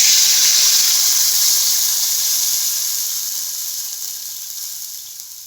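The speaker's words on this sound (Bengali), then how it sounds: "ভাজা হয়ে গেছে, আমি এখন জল দিয়ে দিচ্ছি" Water hits a hot pan of fried potatoes and erupts in a loud, close burst of hissing sizzle and steam that slowly fades and settles over several seconds, with no voices.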